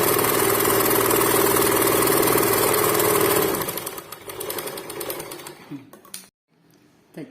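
Sewing machine running steadily as it stitches an extra strip of fabric onto a piece, a loud close mechanical whir that stops after about three and a half seconds, followed by quieter handling noises and brief silence.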